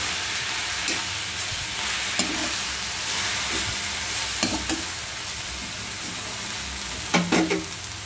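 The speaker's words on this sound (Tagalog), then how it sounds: "Halo-haloin lang natin" Adobong kangkong sizzles in a pan while being stirred, a continuous frying hiss broken by repeated scraping and clinking strokes from the utensil, close and fairly loud.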